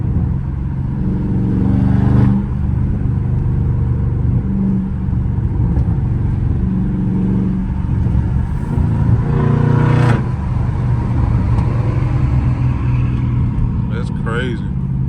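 Loud V8 of a Dodge Scat Pack driving at night, a steady heavy engine drone with a couple of rising revs, heard from inside the car while people talk over it.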